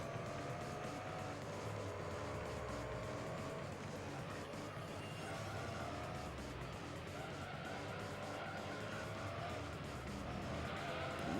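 Simulated car engine droning steadily throughout in Gran Turismo 3 A-Spec, with tire skidding mixed into the continuous racing noise at a fairly constant level.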